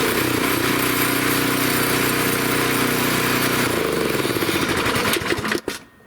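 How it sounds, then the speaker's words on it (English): A PowerSmart 24-inch snowblower with a 212cc gas engine runs loud and steady up close, its drone shifting partway through before it sputters and cuts out near the end. "that is a, like I said, a 212cc PowerSmart 24-inch snowblower"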